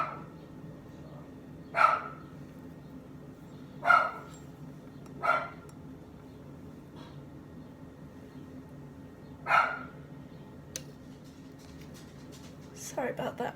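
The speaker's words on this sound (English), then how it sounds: "my dog was going nuts at something outside" A dog goes off at something outside, giving four sharp, fairly loud barks at uneven intervals over a low, steady background hum.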